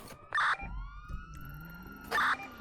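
A police car siren sounds in a GTA 5 roleplay game, with two loud bursts of its wailing tone separated by a lower steady pitch and a short thump between them.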